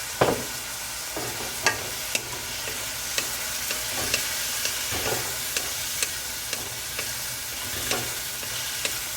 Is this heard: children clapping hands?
no